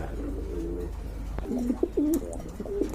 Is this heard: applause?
no